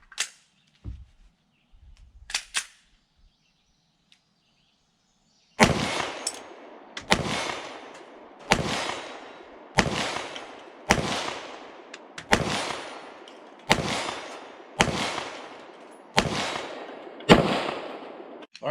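Pistol shots from a PSA 5.7 Rock chambered in 5.7x28mm, fired at a steel plate 40 yards away outdoors: about ten loud, sharp cracks at an even, steady pace, each followed by a short decaying tail, after a few quieter handling sounds.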